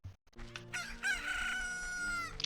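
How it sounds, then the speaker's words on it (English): Rooster crowing in The Legend of Zelda: Ocarina of Time, in Kakariko Village, one loud drawn-out cock-a-doodle-doo with steady game music underneath. "Hey, look, a chicken."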